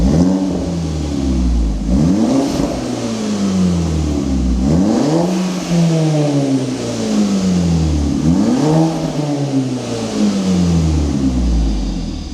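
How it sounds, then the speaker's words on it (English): Volkswagen Scirocco R engine with its valved exhaust open, loud repeated revs that sweep up and drop back in a steady cycle, heard up close with a rough, burbling exhaust note on each fall. "Oh, nice backfire."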